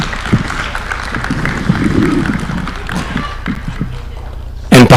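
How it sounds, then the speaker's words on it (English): A seated audience applauds after a presidential address, producing steady, moderately loud clapping that continues for several seconds with some scattered thumps before a voice cuts in at the end. "Another round of applause for His Excellency."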